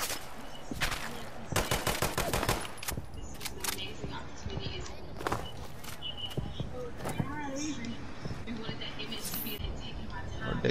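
Scattered video-game gunfire, sharp cracks and short rapid bursts at varying distances, pops through a busy mix while voices talk over the shooting.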